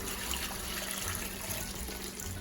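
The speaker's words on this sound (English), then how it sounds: "My plantain is ready, so I'm just gonna go ahead and add water a little bit" Water is poured into a pot of cooking plantains for stewed goat meat kondré, a steady close rush of running liquid.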